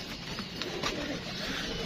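Pigeons coo softly in a pigeon-keeping setting, a few muffled low calls under a steady hiss of background noise.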